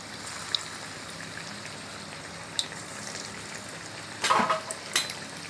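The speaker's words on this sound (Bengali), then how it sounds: "তেল দিয়ে ভালোভাবে গরম করে নেওয়ার পরে বলগুলোকে ছেড়ে ভালোভাবে ভেজে নিব।" Egg chop balls deep-fry in hot oil with a soft, steady bubbling hiss, broken near the end by a few sharper crackles and splashes as they are turned.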